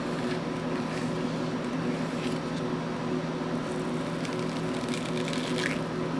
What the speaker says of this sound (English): I know this water is going, and I should probably not be wasting water